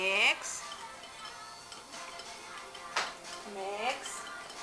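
A three-year-old stirs a mixture in a bowl with a utensil, making soft scraping and clinking sounds beneath an adult's steady, coaching speech.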